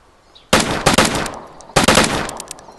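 Two sharp bursts of rapid gunfire in the survival game DayZ, near and loud, each a quick cluster of cracking shots separated by a short pause, with faint background ambience before and between.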